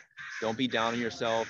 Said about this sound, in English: So you're going to hear the crows in the background too.